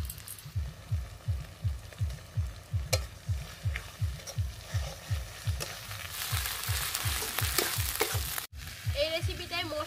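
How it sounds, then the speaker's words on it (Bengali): Onion, garlic and ginger paste fries in a pan for a tuna curry, a steady sizzle with rhythmic scraping stirs about twice a second, close and fairly loud, with no talk. "পেঁয়াজ আর রসুন একটু ভালো করে ভেজে নেব"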